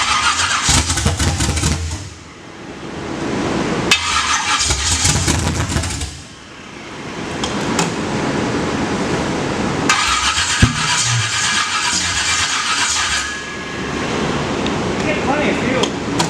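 Inside a shop, a car engine cranks and fires up, then settles into a loud, steady run, with repeated revving surges and a brief drop between bursts; voices talk faintly underneath.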